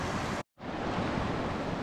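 Rushing river water during a deep wilderness river crossing on a backcountry trail, a loud steady broadband roar close to the microphone, broken by a brief dropout before resuming.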